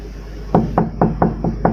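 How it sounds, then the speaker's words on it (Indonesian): Someone knocks on a door in six quick, evenly spaced raps that sound close, hurried and fairly loud over a low hum. "Ada orang yang sedang mengetuk pintu."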